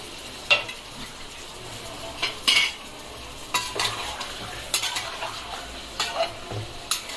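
Chicken sizzles gently in a pan while a utensil scrapes and stirs in irregular bursts, close by, with no talking.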